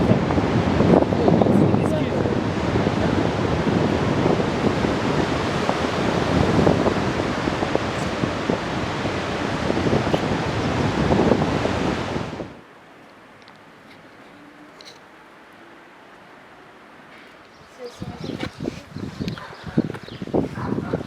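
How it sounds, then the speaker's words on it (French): Strong wind on a beach buffets the microphone with a loud, rough roar that cuts out abruptly to near quiet partway through, then gusts back in. "C'est quoi avec le vent?"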